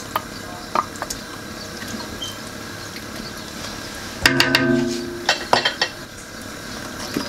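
Chicken livers and onions stirred through a sauce in a pot for Fez-style chicken dghmira, a few scattered utensil clinks giving way to a louder burst of scraping and sizzling midway, close and without talk.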